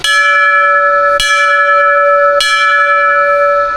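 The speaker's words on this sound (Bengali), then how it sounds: "আর ঢোকার মুখে এরকম একটা ঘন্টা রয়েছে, ঘন্টাটা বাজেই" A temple bell at the entrance of the Radha Madhab temple at Giribala Thakurbari is struck three times in even succession, each bright metallic clang ringing out with a long sustained hum between strikes.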